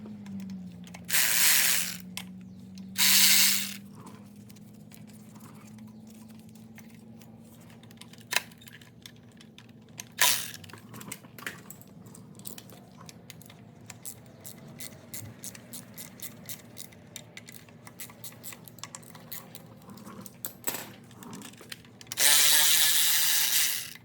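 A ratchet wrench works bolts loose on a 1966 Mustang 289 V8 during a teardown, in several short bursts of rapid close clicking. Between the bursts there is a low steady hum and scattered small taps.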